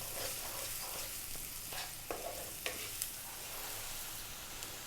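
Curry cooking in a pan on a stove over above-medium heat, seasoned with salt and black pepper, gives a steady low sizzle with a few soft stirring clicks and taps, fairly quiet and with no talking.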